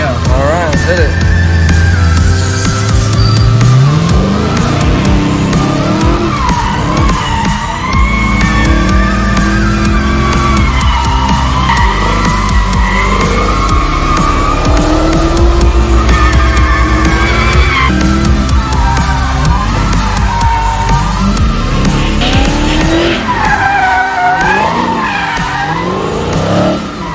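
A car drifts around a drift pad with its tires skidding and squealing in long, loud sweeps over a roaring engine that rises and falls. People talk over the noise.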